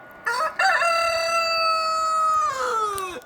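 A rooster crows loudly and close by, a long drawn-out cock-a-doodle-doo that opens with a short clipped note, holds steady, then trails off, heard alone near a camp stove outdoors.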